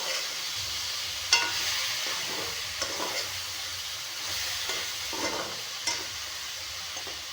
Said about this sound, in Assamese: গৰম পানী দি দিম।